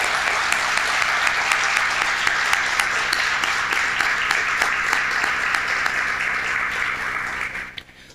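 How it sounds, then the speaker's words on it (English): An audience at a 2021 merger celebration applauds in a sustained, dense burst of clapping that holds steady for several seconds before fading out at the end. "Please give them a round of applause."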